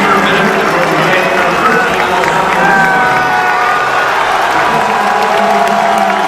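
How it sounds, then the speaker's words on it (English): A stadium crowd cheers and applauds steadily for a substituted player during an Inter versus Milan friendly on a US tour, a dense, loud wash of voices with a commentator talking over it. "The ovation was really for Amichevole"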